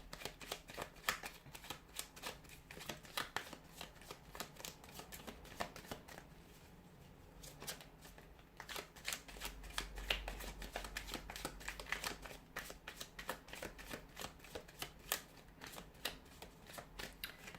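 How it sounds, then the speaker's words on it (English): Tarot cards being shuffled over and over, a rapid crisp riffling and flicking close to the mic, with a brief quieter pause midway. "give the cards a shuffle"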